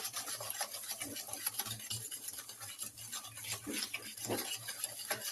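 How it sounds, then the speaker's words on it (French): Butter, sugar and egg yolks for Breton shortbread being mixed by hand in a bowl, heard as quiet, rhythmic scraping and rubbing strokes that repeat steadily. "on va venir rajouter nos 2 jaunes. On va mélanger."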